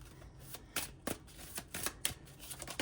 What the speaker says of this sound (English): They're introducing the tarot cards back in.